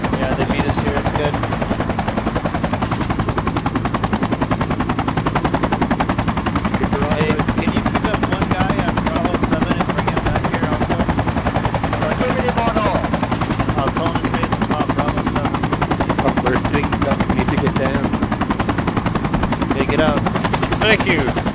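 A helicopter in the military shooter game Project Reality drones loudly and continuously, its rotor thrum and engine whine filling the mix with little change from start to finish.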